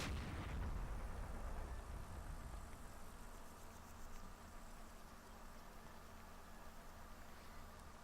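Tank gunfire in the wargame Combat Mission: Black Sea: a heavy cannon blast opens the scene, followed by a long, rumbling, noisy decay that stays low and faint throughout, with no talking.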